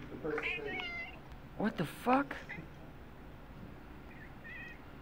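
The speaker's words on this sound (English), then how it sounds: "Oh, that's a cat. Somebody's got a cat." A cat meows a few times during a mobile battle-royale game session, the harmonic cries fairly close and mid-loud, with a voice speaking over part of it.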